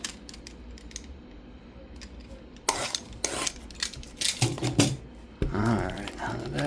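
A 2025 Panini Score football card mega box is torn and pried open up close, giving bursts of crinkling cardboard and plastic handling with a few sharp rips and rustles.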